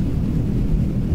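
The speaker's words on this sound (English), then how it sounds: "when the storm comes" Storm ambience in the survival video game Heat Death: a heavy, deep, continuous rumble like wind and distant thunder, loud and unbroken for the whole brief moment.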